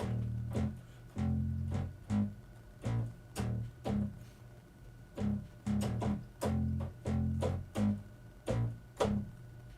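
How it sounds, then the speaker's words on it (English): A small electronic keyboard plays a low, punchy synth bass line in repeated short notes with a steady groove, each note starting with a percussive click, heard alone and fairly quiet. "it's a fun sounding little keyboard thing"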